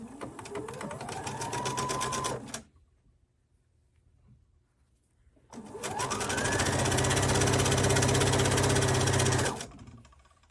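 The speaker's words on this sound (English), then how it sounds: "And now we're going to sew the length of the piece." A sewing machine stitches the length of a fabric waist sash in two steady runs, a short burst then a longer one with a quiet pause between, its motor whirring and rising in pitch as it gets going.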